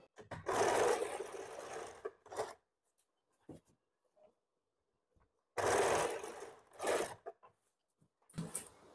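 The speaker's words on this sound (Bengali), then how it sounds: "একটা দিক সেলাই করলাম, এবার দ্বিতীয় দিকটাও সেলাই করে নেব।" Sewing machine stitching umbrella frock fabric in a few quick, close bursts of rapid needle chatter, separated by quiet pauses.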